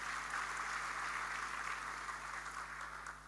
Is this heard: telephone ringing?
no